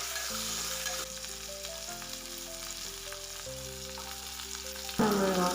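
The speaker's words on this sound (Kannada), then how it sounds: "ಒಗ್ಗರಣೆಗೆ ಸಾಸಿವೆ ಮತ್ತು ಕರ್ಬೇವಿನ ಸೊಪ್ಪು ಸ್ವಲ್ಪ ಹಾಕಿದ್ದೀನಿ ಮಾಡಿ ನಾನು ಒಗ್ಗರಣೆ ಮಾಡ್ಕೊಳ್ತಾ ಇದ್ದೀನಿ" Mustard seeds and curry leaves tempering in hot oil give a steady, loud sizzle with faint crackle, joined by a clear tonal background sound and a brief louder burst near the end, no talk.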